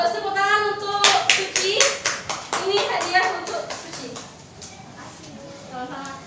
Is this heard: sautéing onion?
no